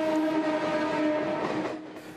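A crowded Badlapur–CSMT Mumbai suburban local nears Ambernath with its horn blaring close by over rumbling wheels and rattling carriages, the horn fading as the train keeps rolling past.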